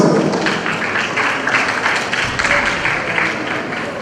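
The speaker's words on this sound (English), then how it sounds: "Students, can you hear us? All right, please clap for yourselves." Students seated at an education policy launch event clap for themselves, a dense, steady patter of many hands filling the room with some crowd noise mixed in.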